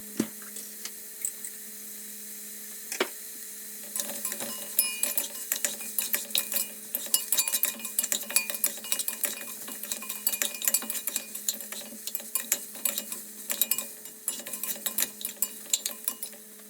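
Cutlery scrapes and clinks against a pan as carrots and tomato paste are stirred and fried, with close, irregular scraping bursts over a steady low hum.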